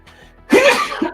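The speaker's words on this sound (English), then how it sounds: "He just smells the dust and sneezes." One close, abrupt sneeze bursts out after a short intake of breath, set off by dust at a workbench while customizing action figures.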